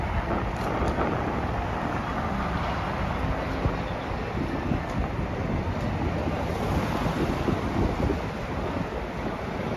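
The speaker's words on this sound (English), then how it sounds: "it's windy over here" Wind blowing outdoors at Grand Central Madison in New York, a steady, close roar buffeting the microphone across the whole stretch with no talking.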